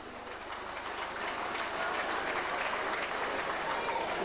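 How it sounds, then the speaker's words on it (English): Rugby league crowd at a Widnes versus Warrington match applauding a move, a broad steady wash of clapping and crowd noise that swells slightly and stays loud to the end. "And the crowd appreciative of that little move from Davies as well."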